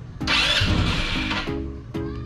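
An Easyride 150N motorcycle with a hard-starting fault cranks and catches briefly, its engine sputtering and revving unevenly before stumbling and failing to stay running, close and loud with no talking.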